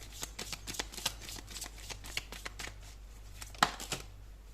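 Tarot cards being shuffled by hand, a steady run of close, crisp riffling and slapping strokes with a sharper snap near the end, in a quiet room.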